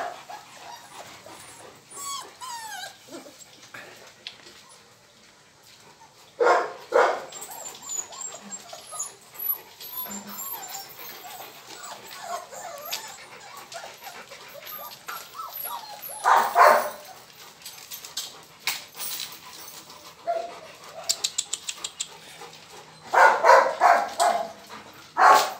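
A litter of twelve Rottweiler puppies whimpers and yips close by, with soft whines throughout and several bursts of sharp, overlapping barks.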